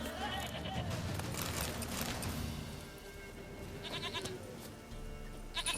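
A goat bleats repeatedly in The Witcher 3 over busy game audio and a speaking voice, the cries wavering and fairly loud near the start.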